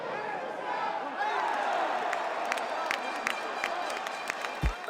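Baseball fans in a Havana stadium roar and cheer as a broad, steady crowd wash, with scattered claps, whistles and shouts rising over the din.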